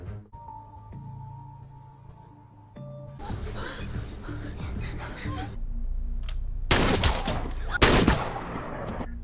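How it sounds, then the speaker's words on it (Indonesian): Troops open fire in a Korean movie scene: after a quiet tonal stretch, dense bursts of gunfire erupt, with two loud, sharp volleys near the end rising over rumbling background sound. "Kisung meminta pasukannya untuk menembak Jinte"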